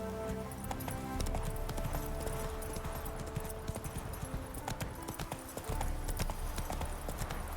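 A horse gallops in The Witcher 3: Wild Hunt, its rapid, dense clip-clop hoofbeats loud and continuous over a steady rumble, while a voice speaks briefly.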